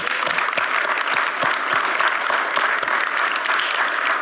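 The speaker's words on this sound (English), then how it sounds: "Let's give them all a round of applause." Attendees at a city board of directors meeting give a round of applause, steady dense clapping with distinct individual claps, fairly close and even throughout.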